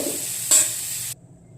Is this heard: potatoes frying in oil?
yes